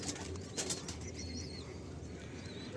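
A male and female pair of pigeons in a coop, with a few soft wing flutters and faint short chirpy calls over a low background hum, close and quiet, with no talking.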